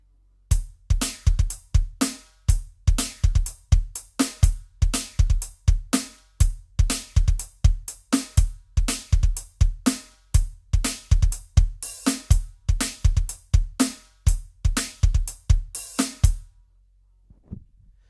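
Groove played on a Roland TD17 electronic drum kit with open hi-hat, steady punchy kick and snare hits with crisp cymbal wash repeating evenly for about sixteen seconds, then fading out.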